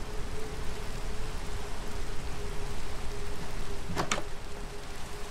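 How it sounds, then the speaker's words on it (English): Steady rain falling at night in modded Minecraft 1.18, a continuous even hiss with no talk over it, broken near the end by a brief sharp louder burst. "it's nighttime and raining now"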